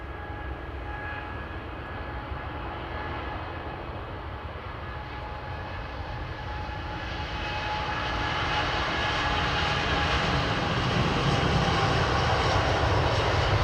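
Boeing Dreamliner jet taking off at Heathrow in fog, a steady engine roar with whining tones that grows louder and fuller partway through as thrust builds toward rotation, heard on its own without talk.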